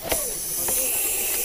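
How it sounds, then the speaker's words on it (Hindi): A Russell's viper hisses in one steady, loud, breathy rush lasting the whole moment, with faint rattles and bumps beneath it. "आवाज सुनिए कैसा है, तेजी से खतरनाक रसल स्वाइपर स्नेक।"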